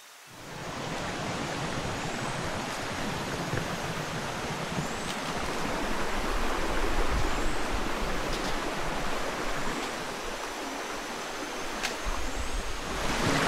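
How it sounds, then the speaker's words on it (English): Continuous rushing roar of a mountain waterfall on Mount Talinis, a broad, steady wash of falling water, loud and enveloping, swelling slightly midway, with no voices. "First up is this beautiful waterfall"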